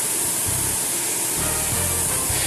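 Steady, loud airbrush spray hissing continuously as 91% alcohol is run through it for cleaning, broadband and close, with faint low rumbling shifts underneath and no talking.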